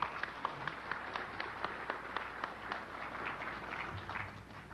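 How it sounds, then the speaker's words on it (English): An audience at a satellite TV dealer gathering claps for a contest winner, steady scattered applause heard from a distance with a few sharper individual claps and a faint crowd murmur under it. "it's appropriate to clap for John."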